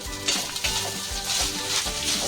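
Soaked soybean chunks hit a hot pan of oil and fry with a steady, close sizzle, with some stirring scrapes against the pan throughout.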